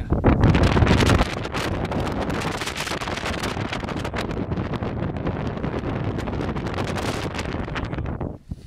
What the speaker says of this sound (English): the wind is just going to blow right into the mic and you probably won't hear me at all